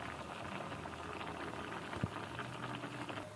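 Pechay greens simmering in coconut milk soup in a pot, giving a soft, steady bubbling across the whole stretch with one brief low knock near the middle.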